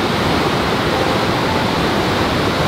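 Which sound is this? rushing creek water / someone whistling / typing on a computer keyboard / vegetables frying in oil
rushing creek water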